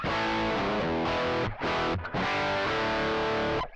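Electric guitar driven through an overdrive pedal with the drive up, playing loud, thick distorted chords that ring continuously with two brief gaps between strums; no voices.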